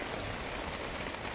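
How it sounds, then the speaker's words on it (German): Heavy rain pours down outdoors beside a stream, a loud, steady hiss of water with no pauses through the brief moment. "Und hier peitscht der Regen."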